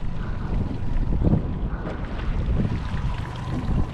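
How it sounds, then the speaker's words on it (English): Strong wind blows across a boat while fishing on Antero Reservoir, a steady, dense rushing and buffeting that stays loud and close for the whole stretch. "all this wind and everything else going on"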